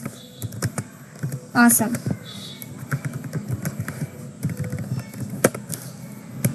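Typing on a computer keyboard while writing Python code that opens and writes a data file: a steady run of quick, close clicks and taps, with a voice speaking briefly over them.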